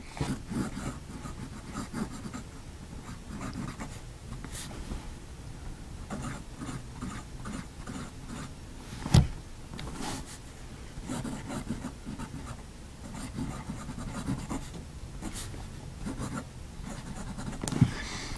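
A Jinhao school fountain pen's generic nib scratching across paper, with faint continuous scratchy strokes and a couple of soft taps, close and quiet.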